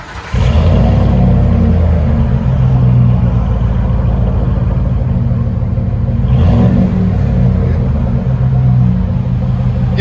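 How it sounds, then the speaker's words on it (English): A Lincoln Mark LT pickup with a 5.4L Triton V8 and Flowmaster Super 10 dual exhaust with 4-inch roll tips starts up and rumbles loudly close by, holding a deep steady idle with a brief rev swell partway through. "That Flowmaster Super 10 gives it a deeper tone."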